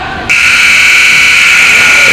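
A basketball game buzzer ends the first quarter of a boys varsity high school game, Proctor vs Leland Gray, a loud sustained electronic tone that starts abruptly and holds steadily to the end.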